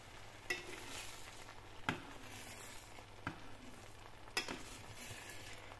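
Eggs cooking in a frying pan are stirred, with a steady sizzle underneath and sharp utensil scrapes at irregular intervals, close and moderately quiet.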